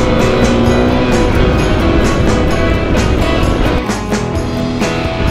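A Kawasaki KLX250 dual sport motorcycle on the move, its engine a loud, continuous drone with wind noise at a steady cruise on snowy roads, with no speech.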